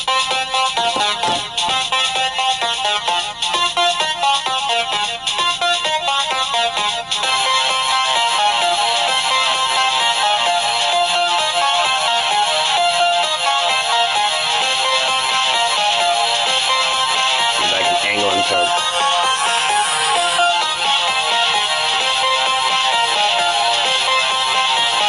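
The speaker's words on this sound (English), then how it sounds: "I'll play another song for you guys just so you guys can kind of hear some other stuff" A song blasting at maximum volume from a Parcel Audio backpack speaker, with dense, bright, continuous music filling the whole stretch with no talking over it.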